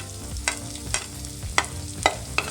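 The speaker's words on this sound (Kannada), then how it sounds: "ಅದಕ್ಕೆ ನಾವು ಒಗ್ಗರಣೆ ಹಾಕ್ಕೊತಾ ಇರೋದು" Cumin and chopped onion sizzle in hot oil as a tempering for Karnataka-style aloo bonda potato filling, with about five sharp spatula scrapes against the pan over a continuous frying hiss, close and without speech.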